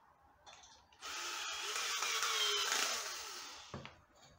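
A power drill drives a screw into melamine board in one sustained whirring, grinding run of about three seconds, close and moderately loud, then stops with a brief clunk. Nobody speaks.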